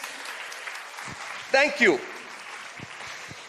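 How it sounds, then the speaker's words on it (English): Applause rises from the audience at a Bengaluru climate action assembly held as an Oxford-style debate, a steady wash of clapping throughout with someone briefly speaking over it midway. "Can we have a round of applause for everything that's happened so far, please?"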